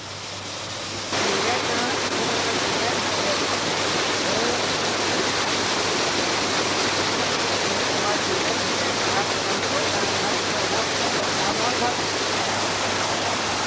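Multi-tier waterfall at the source of the Chi River, a dense, loud, continuous rush of falling water that swells up after the first second and then holds steady and close.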